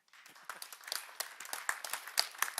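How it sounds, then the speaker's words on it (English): Audience at a nonprofit fundraising talk applauding, scattered clapping from many hands, faint and somewhat distant, building after a brief quiet start. "please give yourselves a round of applause for being here"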